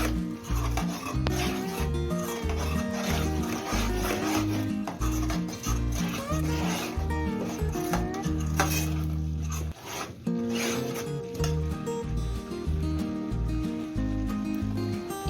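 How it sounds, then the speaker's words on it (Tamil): A spoon rasps and scrapes continuously through a masala with garam masala and turmeric in a pan, rhythmic close rubbing strokes with a soft sizzle underneath, no talking. "நல்லா மசாலாலாம் மிக்ஸ் ஆகிற மாதிரி நல்லா மிக்ஸ் பண்ணிக்கோங்க"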